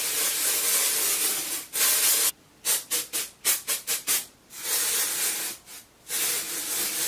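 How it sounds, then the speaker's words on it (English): Continuous aerosol spray hisses onto a synthetic wig, then breaks into a quick series of short spritzes before resuming a longer steady spray, close up with no talking. "just spraying a little bit of this on will take away some of that shine"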